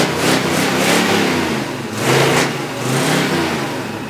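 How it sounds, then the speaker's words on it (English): A truck engine fires up and revs hard in repeated surges, loud and close, with no one talking over it. "Don't you got to start your truck? Yeah, fire that up."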